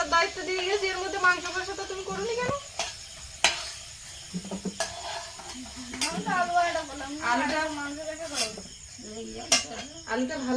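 Potatoes frying in oil in a pan over a home kitchen fire, a steady soft sizzle with occasional scrapes and clinks of stirring, under continuous singing or talk.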